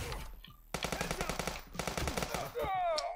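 Rapid bursts of automatic gunfire ring out in the police tactical video game Police Stories, loud and close, with a brief pause before a sustained volley and a trailing high metallic ring at the end.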